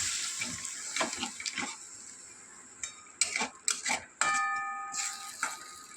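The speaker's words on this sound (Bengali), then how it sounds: "হলুদ, লঙ্কা গুঁড়ি, জিরা গুঁড়ি সব একটা বাটিতে জলে গুলিয়ে নিয়ে এলাম, সেটাই দিয়ে দিলাম।" Turmeric, chilli and cumin powders mixed in water are poured into a hot pan, giving splashy bursts and sharp hissing sizzles, with a few utensil clinks and no talking.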